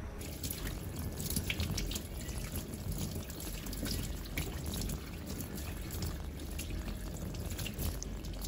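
Running water pours and trickles steadily while natural 4C hair is rinsed and finger-detangled on wash day, a soft continuous splash at moderate distance with no voices.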